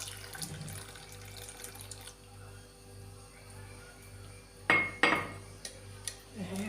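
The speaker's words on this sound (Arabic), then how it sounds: "نضيفو نصف كاس من الماء" Half a glass of water is poured into a blender for a mixed juice of dates, orange and strawberries. A soft running-water sound precedes a couple of brief clinks of glass and utensils, with kitchen hum beneath.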